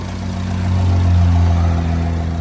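A 2018 Renault Trafic 1.6 diesel van engine idles steadily with a low, even rumble and a faint rise in level midway, no voices.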